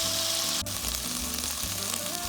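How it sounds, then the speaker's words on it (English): Beef browning in a pot for beef stroganoff, a steady close sizzle and fry running throughout with a brief sharp click partway through. "Our beef is browning."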